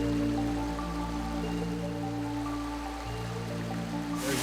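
A waterfall at Mulberry Mountain rushes and splashes steadily, a dense continuous wash of falling water heard up close with no talk.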